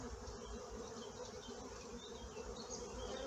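Honey bees in a hive storing honey, a dense, steady buzzing drone close by with no break, no voices.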